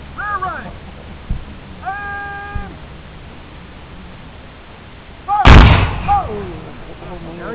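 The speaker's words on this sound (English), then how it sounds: "just fired half the company, the rear rank" A volley of black-powder muskets fired by the rear rank of a Confederate reenactment company lands as one loud broadband crack and rumble partway through, amid meowing cat-like calls and quieter background sounds.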